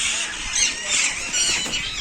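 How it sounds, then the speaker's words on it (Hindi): Green parrots screech from a leafy tree, shrill overlapping squeals sustained loud and near, with someone speaking over them. "आपको तोते कैसे दिखाऊं? पेड़ पे चिल्ला रहे बहुत"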